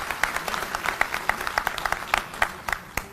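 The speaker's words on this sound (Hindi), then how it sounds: "तो एक बार जोरदार तालियां हमारे सभी युवा और बुजुर्ग साथियों के लिए।" Applause from party workers at a BSP cadre meeting: a crowd claps with many distinct, sharp claps over a continuous wash of hands. It is moderately loud and eases off slightly toward the end.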